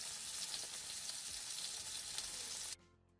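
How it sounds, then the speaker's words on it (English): Steaks searing in grapeseed oil in a frying pan give a loud, steady close sizzle that cuts off abruptly near the end. "sear our steaks on one side in the oil while making sure that it sears,"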